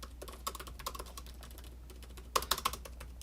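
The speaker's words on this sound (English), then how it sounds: "I'm just going to do a little bit of typing here." Fingers type on the keyboard of a Dell XPS 15 9560 laptop: soft, close, irregular key taps, quiet at first, then a brief quicker burst of keystrokes near the end.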